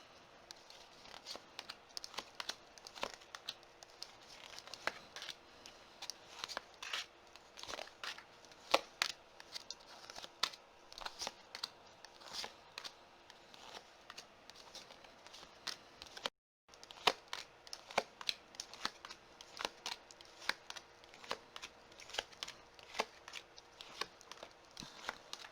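Tarot cards are shuffled and laid down, with faint, dense crisp flicks and soft slaps in quick irregular succession over low background hiss, pausing once briefly.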